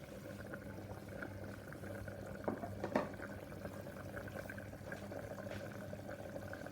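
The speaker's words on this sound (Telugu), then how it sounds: "ఇంకా మరుగుతుండలా ఆవిరి వచ్చాయి" A pot of fish curry bubbles and simmers steadily, with soft continuous boiling and a couple of brief louder pops in the middle.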